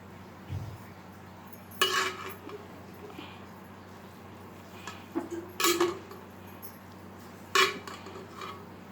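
Carrot halwa being stirred in a pressure cooker, with a few sharp metallic clinks and scrapes of a spoon against the pot spaced a couple of seconds apart over a quiet kitchen background.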